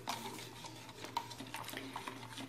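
A spoon stirs raspberry gelatin dissolving in about 500 ml of hot water, with soft repeated scrapes and light clinks against the bowl, close and fairly quiet, with no talking.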